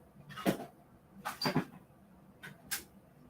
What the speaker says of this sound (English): I'm just keeping his door open and closed.